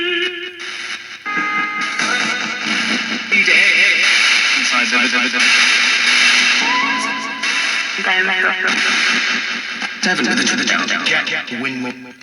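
Crackling radio static from a Nanoportal Mk III ghost box sweeping rapidly between stations, choppy bursts of noise and fragments of broadcast voices, washed in heavy echoing reverb, continuous and loud.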